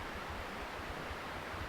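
A river flows below a mountain cabin in the Colorado Rockies, giving a steady, continuous rush of water that stays even and unbroken throughout, with no voices over it.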